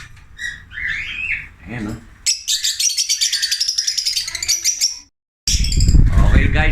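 Caged African lovebirds in an aviary chirp in rapid, bright, repeated bursts, loud and close, with a brief pause and a rough noisy stretch, and a voice speaks briefly near the start.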